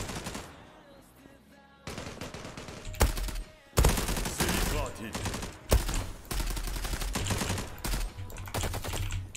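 Automatic gunfire in the online shooter game Zula, loud rapid bursts and sustained rattling volleys that start after a quieter opening, with someone talking over the shooting.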